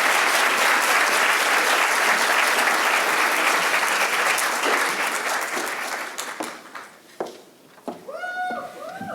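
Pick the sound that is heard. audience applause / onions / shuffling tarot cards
audience applause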